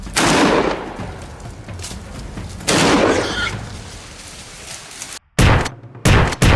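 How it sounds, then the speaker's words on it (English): Rifle shots fired at a wild boar, several sharp loud reports with booming tails, two spaced shots followed by a quicker cluster near the end, close and alone. "his follow-up shots found their mark"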